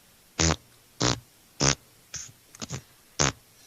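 Fart sound effects on a radio show, six or so short loud blasts spaced almost evenly like footsteps, one broken into a quick stuttering cluster, alone without talk.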